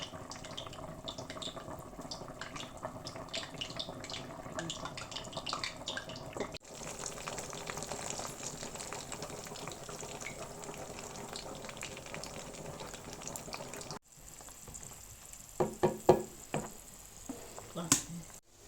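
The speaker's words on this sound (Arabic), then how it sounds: "قليت البطاطا وراح نحمر" Potato pieces fry in hot oil in an ordinary frying pan for Algerian-style potatoes, a steady crackling sizzle running throughout, briefly dipping and then returning with sharper pops and clatters near the end.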